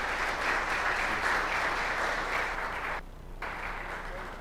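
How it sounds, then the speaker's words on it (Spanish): Sustained audience applause fills a conference hall at an artificial intelligence congress, a steady wash of many hands clapping that briefly dips near the end, moderately loud with no talk over it. "Un aplauso fuerte para Esteban Vallejo de Global Singularity."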